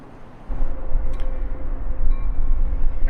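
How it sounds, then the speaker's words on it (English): An inbound Metra commuter train rumbles into Lisle station, a steady low rolling roar of wheels with a faint tonal hum, fairly close and building slightly. "All right, another inbound train pulling into Lisle."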